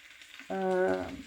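Chopped vegetables and oyster mushrooms with parsley, dill, peppers and tomato sizzle in a frying pan as egg is poured in, a steady hiss under a brief voiced sound.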